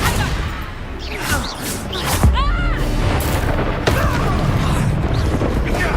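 A Confringo fire spell bursts in the Hogwarts Legacy video game, one booming explosion with whooshing magical effects amid other spell sounds and game clamor.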